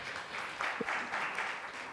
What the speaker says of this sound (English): round of applause there for Jack